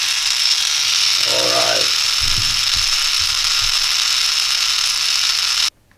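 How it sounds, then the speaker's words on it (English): A small 3-volt DC motor whines steadily and loud through almost the whole stretch, a high continuous buzz that cuts off abruptly near the end, with a brief faint voice-like sound early on. "this one is a small DC motor that works on 3 volts"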